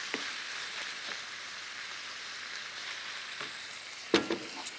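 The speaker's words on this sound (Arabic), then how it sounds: "فوالا نحمس اللحم تاعي جيدا بهذا الشكل" Meat browning in a pan gives a steady, faint crackling sizzle throughout, with a few soft utensil scrapes and a brief louder clatter near the end.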